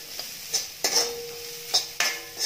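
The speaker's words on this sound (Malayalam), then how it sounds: "ക്യാരറ്റ്. നന്നായി വാട്ടുക." Carrots and beans being sautéed in a pan for egg fried rice, a soft sizzle under sharp metal spatula scrapes and taps in an irregular rhythm, about five distinct clanks, no talking.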